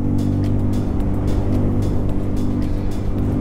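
A Bajaj Pulsar N250 motorcycle engine overtaking on an uphill stretch, a loud, steady, close-up drone with rushing wind noise and no pauses.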